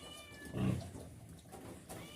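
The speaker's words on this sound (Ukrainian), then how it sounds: "Кіт десь хоче втікти. Чи кіхті гострить." A single faint cat meow rises briefly over quiet background noise.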